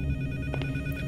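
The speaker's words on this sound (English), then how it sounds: "The phone! Yes!" A telephone rings in a horror video game, a short electronic trill over a steady low hum, with no one talking.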